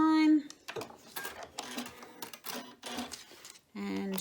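A sewing machine runs in short bursts while stitching two fabric pieces together along diagonal seam tape, with rapid close-up needle clatter between pauses and a voice speaking over parts of it.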